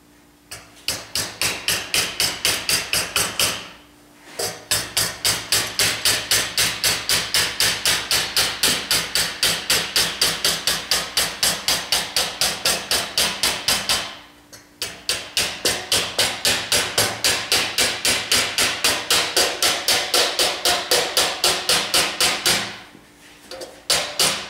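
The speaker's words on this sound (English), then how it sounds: "So earmuffs on, I got my soft blow hammer," A soft blow hammer forms an upper windshield channel for a four-place Bearhawk aircraft, striking the metal in fast, steady, loud blows that run in long unbroken bursts separated by two brief pauses.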